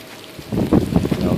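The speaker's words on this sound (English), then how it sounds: "I've noticed it's raining earlier than expected." Rain falling on slushy snow during a December snowstorm in New York City, a soft patter that rises after a quiet start into a steady close hiss with wind noise on the microphone.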